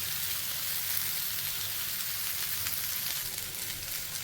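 Brinjal fries in a pan on a low flame, giving a steady, dense sizzle from start to finish with no voices.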